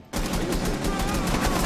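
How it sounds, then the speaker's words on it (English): Rapid gunfire from the video game Rainbow Six Siege, with a burst of dense repeated shots that starts abruptly and runs without a break, loud and close. "he's shooting through the wall. He's got a shotgun."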